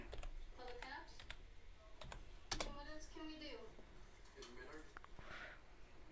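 Light keystrokes on a computer keyboard while building in Fortnite Creative, scattered taps and a louder clack, heard under ongoing talk.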